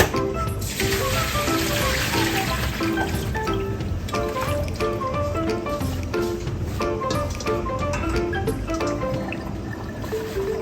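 Soaked wild spinach (lamb's quarters) is strained, with water pouring and draining in a steady, fairly close trickle and splash throughout.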